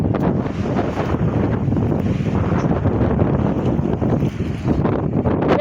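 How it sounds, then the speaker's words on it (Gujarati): Strong wind gusts outdoors near a garden as rain approaches, roaring and buffeting the microphone in a loud, continuous rumble with fluctuating surges and no speech over it. "વાયરો જોરદાર સૂચ્યો."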